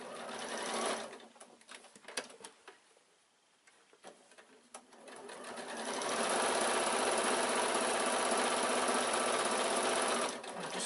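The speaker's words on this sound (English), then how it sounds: "For speed, I'm just going to top stitch." A sewing machine top stitches a quilted evening bag, first in short, uneven bursts with clicks and pauses, then in a long, steady, loud run of stitching before stopping.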